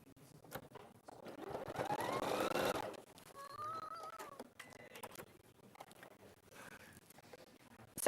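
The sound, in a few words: sewing machine stitching fabric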